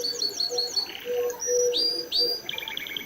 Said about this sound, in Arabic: طائر الببغاء